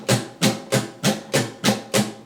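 A guitar strummed in a steady continuous pattern of constant down and up strokes, seven evenly spaced strums ringing out alone, close and bright.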